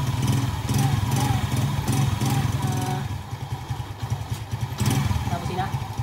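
A motorcycle engine started by a homemade remote-control anti-theft switch runs with a loud, throbbing idle and a brief dip in level. Someone talks over it.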